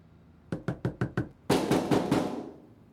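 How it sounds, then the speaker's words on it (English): Someone knocks and then pounds on a door in a video game: five quick, crisp knocks followed by four heavier, booming thuds, close and loud with no talk. "Then I hear the knocking and the pounding."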